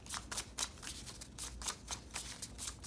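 Tarot cards being shuffled by hand, heard as a run of quick, crisp papery riffling bursts at a steady, uneven rhythm, fairly close and quiet, with no talking.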